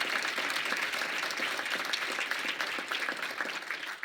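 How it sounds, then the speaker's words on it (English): An audience at a presidential address claps in a dense, even round of applause that carries throughout, close and steady, with no talking. "Let's give her a round of applause."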